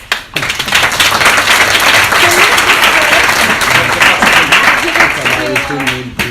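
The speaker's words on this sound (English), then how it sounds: "applause" Students at an innovation and entrepreneurship class contest break into loud, close applause that starts abruptly and continues with thick clapping, with some voices talking underneath as it winds down.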